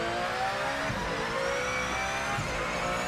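A race car engine in Project Motor Racing drones steadily at high revs, loud and continuous, with brief dips where gear shifts break the tone.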